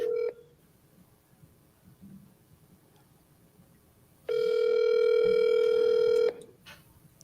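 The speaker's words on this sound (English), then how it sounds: "If you catch me dialing" A telephone line gives a brief tone, then a quiet gap, then a loud steady dial tone that holds for about two seconds before cutting off, heard alone and close.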